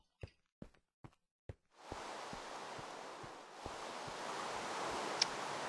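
Rain falls in the Let's Survive game, a steady hiss of dense rainfall that starts suddenly after several separate footstep-like thuds and continues loud. Occasional soft thumps sound beneath it.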